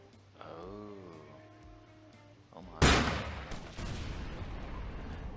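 A cannon fires in the video game 12 Is Better than 6: a sharp, loud blast followed by a rumbling, noisy tail, after a stretch of quieter tonal game sounds.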